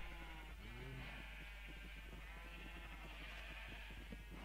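Sheep bleating in Minecraft, a few wavering blocky bleats early on, followed by a run of soft tapping game sounds over a constant low hum, with no talk.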